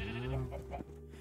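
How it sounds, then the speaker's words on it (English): A black sheep bleats in Minecraft, one short wavering cry close and clear over a quiet background. "I've already got two black sheep."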